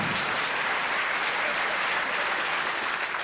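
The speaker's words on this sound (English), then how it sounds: "Don't clap that." A stand-up comedy audience bursts into sustained applause, a dense, loud wash of clapping from a large crowd that holds steady throughout with no voices on top.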